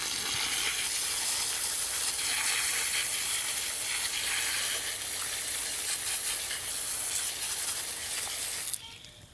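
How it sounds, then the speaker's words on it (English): Water rinsing dahlia tubers in a steady, close hissing spray that runs unbroken for several seconds and then cuts off abruptly at the end. "So first off is rinsing."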